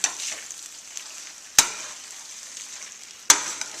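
Fettuccine pomodoro with fresh parsley sizzles steadily in a hot pan as it is folded through over lowered heat, a soft continuous frying hiss broken by two sharp utensil clacks against the pan; no one speaks.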